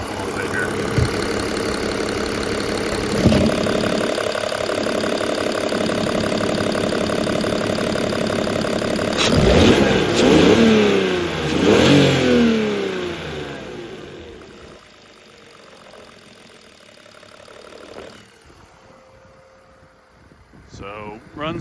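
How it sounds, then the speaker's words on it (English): A 2004 BMW 325xiT engine idles in the open bay, then is blipped through a few quick revs that rise and fall before settling back to a quieter idle, with a voice speaking at times. "I'll put the camera on the engine and rev it up a little bit here"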